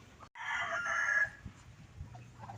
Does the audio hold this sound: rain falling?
no